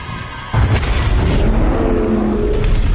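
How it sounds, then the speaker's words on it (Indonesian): A loud explosion from a microwave booms suddenly after a brief quieter moment, followed by a deep rumbling roar that lingers. "Untung saja Sean selamat dari ledakan tersebut."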